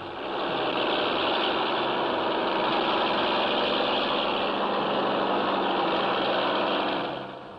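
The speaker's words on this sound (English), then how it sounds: "Sand so deep, even powerful earth movers bog down." Earth movers working in deep sand, a steady loud engine drone that holds at a constant level for several seconds and then fades out.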